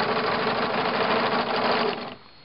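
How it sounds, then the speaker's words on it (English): An industrial sewing machine runs in a fast continuous burst while stitching a liner, locking the stitch before stopping abruptly near the end; the sound is close and steady. "Just lock the stitch and raise the needle."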